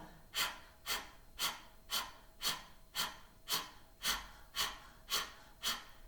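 Rhythmic open-mouth panting, tongue out like a dog, in a Breath of Fire breathing exercise: about twelve quick, even breaths at a steady pace, close and fairly soft with no talking.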